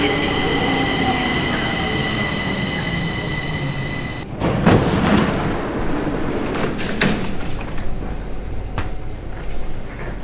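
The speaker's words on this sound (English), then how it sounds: "So let's wait for the train" Stockholm metro train in a station, a steady rumble with high electric whines, then a hiss of brakes or doors around midway, wheels squealing and clattering, loud and close.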